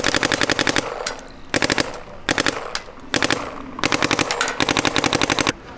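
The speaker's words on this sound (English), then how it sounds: "This is uncapped, so it's just, it'll shoot as fast as your hopper will load" Uncapped semi-automatic paintball gun fired in rapid bursts of about eight to ten crisp pops each, five or six bursts with short pauses between, loud and close at a streetball tournament.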